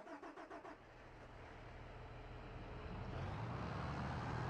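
Allis Chalmers tractor engine in Farming Simulator, a few rhythmic cranking pulses that catch into a steady, building diesel rumble.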